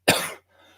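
A man gives a single sharp, close cough that fades into a quiet breathy tail.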